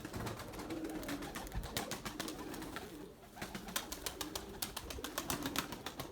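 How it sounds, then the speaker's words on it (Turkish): White pigeons flap their wings in a flurry of rapid, close wingbeats, with soft cooing mixed in, continuing steadily throughout. "Bakın kanat sesine bakın."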